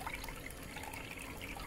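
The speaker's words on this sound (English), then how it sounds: "so our water's dropping down nice and even across the whole table" Water falling from four jets across a Miller table used to recover fine gold makes a soft, even trickling wash, faint and continuous throughout, with no talking.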